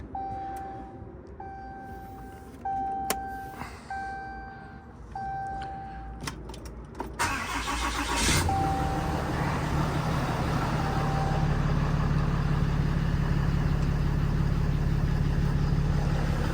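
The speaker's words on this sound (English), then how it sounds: "So let's see what happens here with a cold start after 6 months of sitting here." A RAM truck's diesel engine cranks briefly and fires up on a cold start after sitting six months, then settles into a loud, steady idle up close after some faint beeping.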